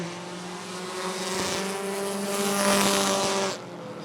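Race cars roaring around Rockford Speedway during a bracket racing event, a loud, sustained engine drone that swells and holds as the cars pass near, then drops slightly at the end, with no talk.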